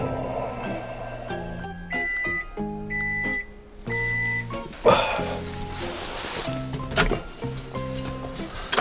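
A phone rings inside a truck cab with repeated electronic beeping tones in short steady bursts, then shuffling and cab noise follow.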